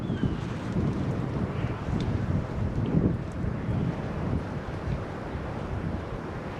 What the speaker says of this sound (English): You can just hear the breeze.